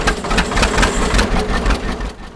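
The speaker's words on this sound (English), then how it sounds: "He climbs up onto a John Deere Model A and fires the engine." An old John Deere Model A tractor engine chugs up close and loud with a rough, rhythmic thumping beat after starting.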